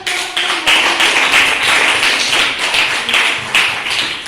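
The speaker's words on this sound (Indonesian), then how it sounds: "Tepuk tangan." Hands clapping in a school classroom during a poetry peer-teaching session, a steady run of sharp, close claps repeating for about four seconds with no talk.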